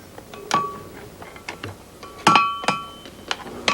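A blacksmith's hammer strikes iron and anvil at an uneven pace, some blows bright and pinging, some duller, with a few resonant tones lingering after the louder strikes.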